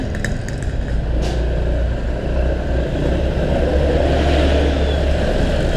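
Steady low rumble of a long weekday traffic jam heard while riding a Honda PCX 150 scooter, with idling and slowly moving vehicles close by, a continuous broad engine drone with no speech.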